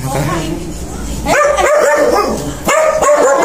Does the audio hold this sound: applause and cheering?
no